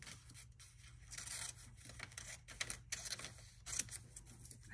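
Scissors snip through paper while cutting out tomato shapes for a rainbow collage, making faint, close, irregular crisp cuts and rustles in a quiet room.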